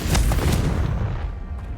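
A Confringo fire spell bursts in Hogwarts Legacy, a single heavy booming explosion up front that rumbles and fades out over about a second.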